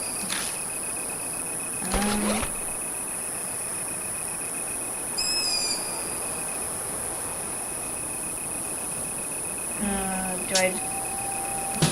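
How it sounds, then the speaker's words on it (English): At a night-time lake in the video game Spirit Hunter NG, frogs keep up a continuous, even chorus that sits at a moderate level, with a couple of brief voice-like sounds rising above it. "it sounds like frogs. Like the frogs ribbiting and everything because it's a lake."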